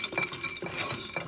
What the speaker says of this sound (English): I'm adding some peanuts and then stir it again